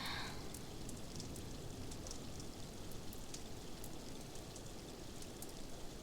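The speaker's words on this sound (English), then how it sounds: "we can just stay here listening to the sound of waterfall" A steady, dense rush of falling water from a waterfall fills the whole stretch, constant and even with no voices.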